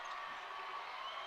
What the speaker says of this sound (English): Waupun crowd coming to life.